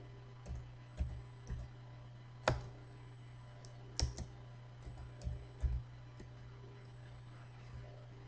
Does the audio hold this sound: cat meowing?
no